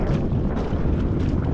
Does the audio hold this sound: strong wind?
yes